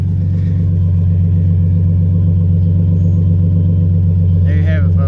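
A Ford F-150 XL with a 3.7L engine and a Legato dual exhaust idles at a steady, loud, low rumble. A brief voice is heard near the end.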